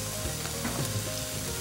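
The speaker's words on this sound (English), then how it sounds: "Oh, I love to hear that sizzle." Red bell pepper and julienne carrots sizzle loudly in a hot pan, a steady crackling hiss with faint scraping of stirring, no voices.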